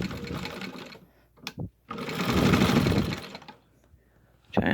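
A Singer 15-91 sewing machine with new wiring stitches cotton fabric in two runs, a close, busy mechanical whirr that starts, pauses briefly and then resumes, with a short clack at the end.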